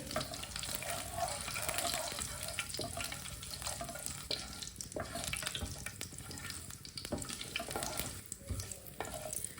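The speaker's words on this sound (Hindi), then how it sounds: "आधी चमची साबुत जीरा, आधी चमची साबुत धनिया। दोनों चीज़ों को 1 मिनट के लिए रोस्ट कर लेंगे।" Whole cumin and coriander seeds being dry roasted in a pan, a steady broadband rustle and faint sizzle with intermittent stirring scrapes, close and continuous with no voices.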